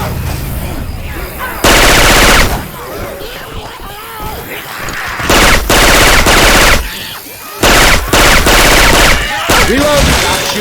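Loud bursts of rapid automatic gunfire from Left 4 Dead 2 weapons modded with Syphon Filter sound effects, several sustained volleys separated by brief gaps, with game voices and player chatter between them.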